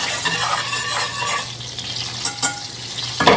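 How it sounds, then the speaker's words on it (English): Butter foaming and sizzling in a pan for brown butter, a steady close crackle with intermittent scraping strokes as it is stirred every few seconds, no voices. "So we're going to stir it every few seconds, and we're just going to watch it foam up"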